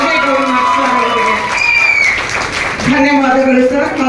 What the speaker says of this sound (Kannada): ಜೋರಾದ ಚಪ್ಪಾಳೆ ಬರಬೇಕು ನಮ್ಮ ಎಲ್ಲೇ ಗೌರವಿಗೆ